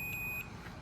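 A steady, high-pitched electronic multimeter continuity beep, tested on an extension cord being repaired, sounds for just under half a second, then cuts off, leaving quiet background hiss.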